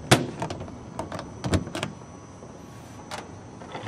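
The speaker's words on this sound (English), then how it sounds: "So I'm going to close these doors up." Doors of a Robinson R22 helicopter being shut and latched during a preflight inspection, several sharp close clicks and thumps in a short burst, then quieter handling sounds.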